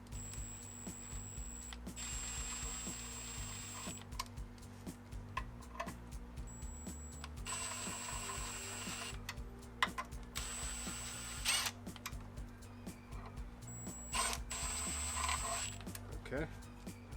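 A ratchet snugs up the four transmission pan bolts on a Toyota Land Cruiser 80 Series, repeated bursts of quick clicking separated by short pauses, faint and close, with speech in between.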